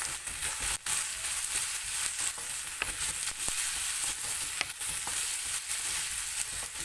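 Crushed garlic frying in a pan for aloe vera curry gives a steady, close sizzle with occasional sharp crackles and pops throughout, and no talking over it.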